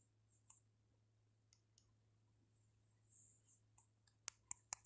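Sparse computer keyboard clicks typing a search, a few isolated taps early then a quicker run of louder keystrokes near the end, close and otherwise quiet apart from a faint low hum.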